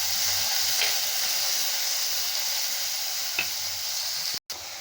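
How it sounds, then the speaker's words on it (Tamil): Onion, tomato and dried red chili sauté in a pan with a steady, soft sizzle and hiss, a couple of faint stirring clicks, and a brief cut near the end. "நம்ம போட்ட வெங்காயம் தக்காளி வரமிளகாய் நல்லா வதங்கிட்டு இருக்குங்க"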